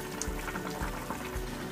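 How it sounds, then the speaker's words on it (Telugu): Raw banana tamarind curry bubbles gently in a pot on the stove, a soft, continuous simmer with faint popping and no talking. "ఇలా మరుగుతున్నప్పుడు"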